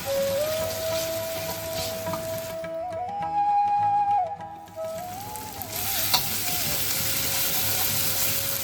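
Onion and ginger paste fries in a pan with a steady, close sizzle, plus a faint whistling tone and a brief quieter dip midway.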